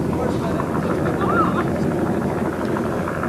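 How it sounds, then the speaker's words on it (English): Helicopters fly over a flooded rally stage at the 1984 Circuit of Ireland Rally, giving a steady, loud rotor and engine drone that continues throughout beneath a voice. "So the helicopters move across the city to Mondello, where there are more helicopters"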